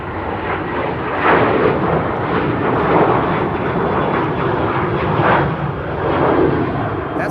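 An airliner in SkyTeam livery departing Schiphol for Bucharest gives a loud, close, continuous jet roar with slow swells in intensity, and no voices are heard.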